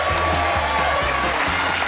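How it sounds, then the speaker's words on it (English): Studio audience applauding on a televised Australian football panel show, marking a player's 200th game; a steady, dense wash of clapping with a low hum beneath, loud and close, no voices. "A round of applause there"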